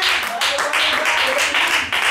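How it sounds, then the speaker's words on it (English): A church congregation clapping hands in praise, a loud, steady rhythmic beat of many hands in quick regular pulses, close and filling the room. "Clap your hand and give God praise."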